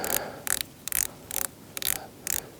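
Turrets on a digital rifle scope being turned, about six quick bursts of close, crisp ratcheting clicks spaced evenly, with no speech.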